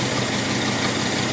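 A 1966 Ford Mustang V8, pulled from a junkyard after decades of sitting, idles with a steady, even rumble that stays close and loud throughout, with no talking over it.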